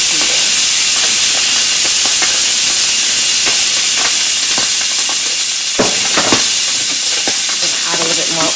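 Salmon fillets frying in hot oil in a pan, a loud, steady sizzle and hiss with scattered crackles and spatters throughout.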